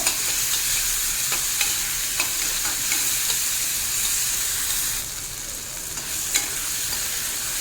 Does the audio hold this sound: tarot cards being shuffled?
no